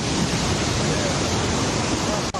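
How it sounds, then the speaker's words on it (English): The Meche waterfall in Bamungum, Cameroon, drops water 40 meters, producing a dense, steady, loud roar of rushing water that is constant throughout. "Water falls from a height of 40 meters."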